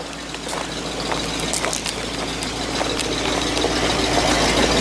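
Truck engine idling steadily after warming up, running on bad gas in thin high-altitude air, a constant low rumble with light rattling that grows slightly louder toward the end, no talk.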